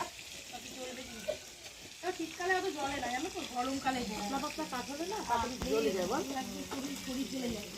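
Food being stirred in a pot over an outdoor wood fire at a winter picnic: a steady scraping, bubbling cook sound with soft sizzle, with voices talking faintly alongside throughout.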